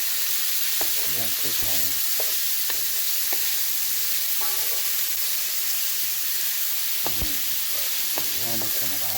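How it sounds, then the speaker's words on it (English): Pelau ingredients sweating in a hot pot, a loud, continuous hiss and sizzle with occasional stirring clinks, while a person speaks briefly over it. "so we're going to sweat this down. Sweat it down really good."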